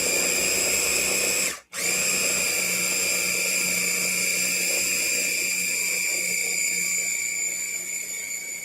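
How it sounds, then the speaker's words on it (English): A loud, steady electric kitchen grinder whirs continuously while grinding food, with a brief break in the motor near the start before it carries on at a constant high whine. "Okay, so let's grind it up."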